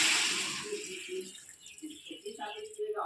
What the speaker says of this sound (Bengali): ভালো করে মিক্স করে নেব এবার জল দিয়ে দেবো